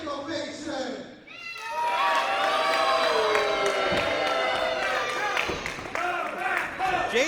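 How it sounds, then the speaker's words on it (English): Live pro wrestling crowd breaking into a big ovation, loud sustained cheering and whoops from many voices, with a person talking over the start before the roar swells. "Let me get a big ovation."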